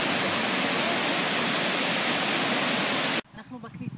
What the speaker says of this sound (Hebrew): זרימת מים יפה מאוד לתוך הבריכה הזאת